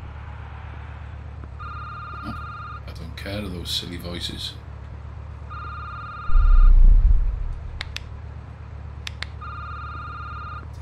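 A telephone rings in a security booth on the night shift, three separate bursts of ringing spaced a few seconds apart, while people talk over a steady low hum.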